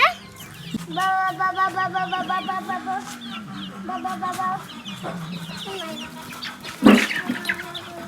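Chickens cluck and chatter nearby in a steady stream of short calls while being fed watermelon, with a louder squawk near the end and faint voices in the background.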